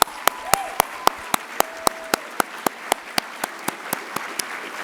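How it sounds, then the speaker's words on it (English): A student audience applauding scholarship donors at a local scholarship recognition evening, heard as a steady series of sharp, evenly spaced claps near the microphone, slowly softening, with a voice speaking briefly at the start. "a round of applause for all our scholarship donors"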